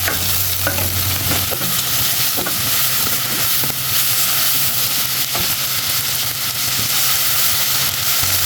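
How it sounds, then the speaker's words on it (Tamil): Tomatoes sauté in a hot pan with oil for a South Indian fish curry, giving a steady, loud sizzle and hiss with occasional stirring scrapes, and no voices over it. "நல்லா வந்து தக்காளி வதங்கிடும் சீக்கிரமாக வதங்கிடும்"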